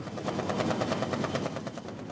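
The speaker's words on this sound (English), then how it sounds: "Helicopters drop off special divers in a mock battle." Steady thudding rotor beat of a helicopter dropping off divers during a 1982 U.S. Navy Special Warfare Group mock battle demonstration, loud and close, pulsing rapidly and continuously without any voices.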